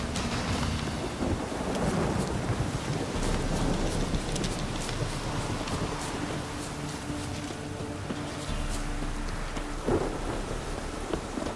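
Steady heavy rain with rolling thunder in The Witcher 3, a dense continuous downpour with deep rumbles building throughout, no voices.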